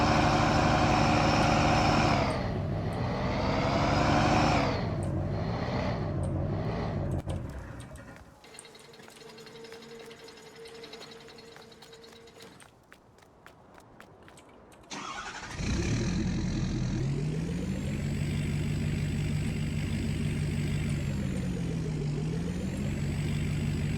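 A diesel truck engine idles inside a newly finished shop as the truck is parked, a loud, steady rumble with rising and falling revs, then a quieter stretch before the engine roars back and holds.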